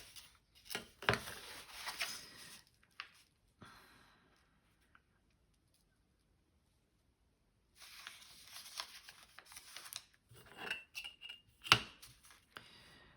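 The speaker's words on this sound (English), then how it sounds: "let's see if I can just cut a little tiny bit of this off" Scissors cutting paper from an old window envelope, a few short crisp snips and rustles near the start and again toward the end, separated by a stretch of near silence.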